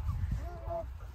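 Turkeys and chickens call nearby with a short honking gobble, faint over a low rumble, while a person talks.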